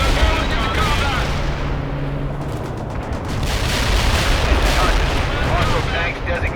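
Napalm strike and artillery fire in the World in Conflict PC game, a dense continuous roar of rumbling explosions and burning that stays loud throughout, with faint radio voices mixed underneath.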